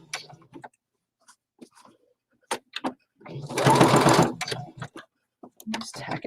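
Short whirring burst of a sewing machine stitching a fabric appliqué leaf, lasting about a second amid soft talking and light handling noises.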